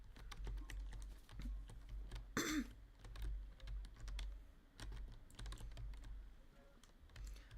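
Quiet, irregular clicks of typing on a computer keyboard continue throughout, with a brief throat clear partway through and no talking.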